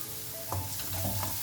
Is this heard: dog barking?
no